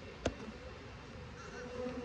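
Honey bees hum quietly and steadily during a hive inspection, a faint, continuous drone heard close by. A single brief tap sounds early on, and no one speaks.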